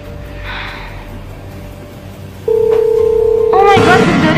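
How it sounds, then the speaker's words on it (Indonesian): A telephone ringback tone sounds, a steady electronic purr repeating, joined at the end by a brief rising electronic chirp over faint background hiss. "Oh my god, berdering guys."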